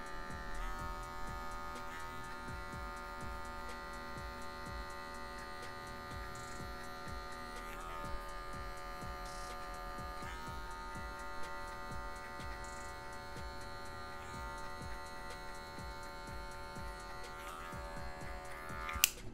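An electric hair clipper held at a 45-degree angle, its blade edge fading hair at the zero setting, a steady close mechanical buzz with a few small shifts in pitch as it moves, no voices.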